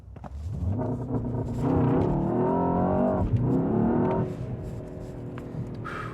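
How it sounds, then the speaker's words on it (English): A Mercedes-AMG S 63 E-Performance doing a launch-control race start, with the engine droning and rising through several gear changes in a loud, close, rapidly climbing surge before easing back. "Let's see if we can do another race start."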